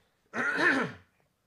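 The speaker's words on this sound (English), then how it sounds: "Sorry, I got to clear my throat." A single throat clear, short and close, in an otherwise quiet moment.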